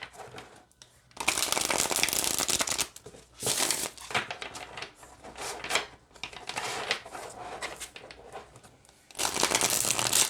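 A deck of cards is riffled and shuffled repeatedly up close, with bursts of rapid crisp flutters separated by softer handling noise and short pauses.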